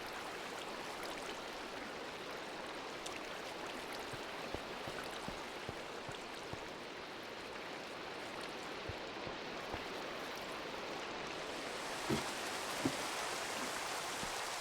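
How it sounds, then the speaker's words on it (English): Rain in the video game Minecraft falls as a continuous dense wash of even patter, steady and moderately loud throughout with a couple of small knocks near the end, no talk. "So now we got to deal with the rain."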